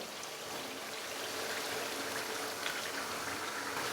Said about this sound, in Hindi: बॉयल किए हुए चने डाल दूंगा।